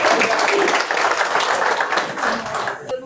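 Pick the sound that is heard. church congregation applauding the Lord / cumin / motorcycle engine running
church congregation applauding the Lord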